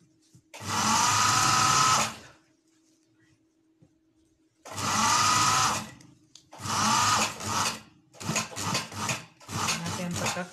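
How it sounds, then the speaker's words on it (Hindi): At home, a sewing machine stitches a trouser waistband belt with thick stitching, running loudly and close in several separate bursts of whirring with short pauses between them. "इसमें बारीक सिलाई भी आप लगा सकते हैं, कोई ऐसा मसला नहीं है, लेकिन बेल की सिलाई थोड़ी सी मोटी होती है।"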